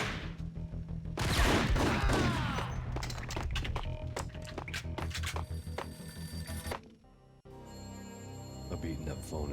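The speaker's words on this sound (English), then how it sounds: "A beaten-up phone in the entrance hall was ringing." An old landline phone rings in an entrance hall in the Max Payne video game, bursts of bell ringing mixed with game effects, thuds and sharp gunfire-like hits, and a voice speaking at points.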